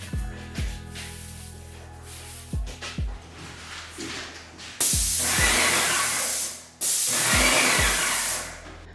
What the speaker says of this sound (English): I was so happy that I could spray this wall